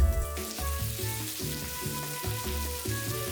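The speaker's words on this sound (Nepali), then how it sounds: "त्यही प्यानमा अलिकति तेल राख्नुस् अनि अघि काटेको प्याज राखेर 2 मिनेट जति चलाउनुस्" Chopped onion sizzles and fries in hot oil in a pan, stirred with steady rhythmic scrapes over a continuous close crackle.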